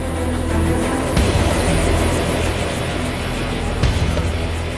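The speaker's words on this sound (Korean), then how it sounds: "밤새 어둠 속에서 휴식을 취하던 공격 헬기가 다시금 자신의 위용을 드러낸다" Loud, steady rotor and turbine roar from an army attack helicopter, with a couple of brief louder swells as it runs nearby.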